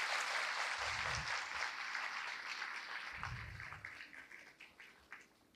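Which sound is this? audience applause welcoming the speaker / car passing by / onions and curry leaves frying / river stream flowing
audience applause welcoming the speaker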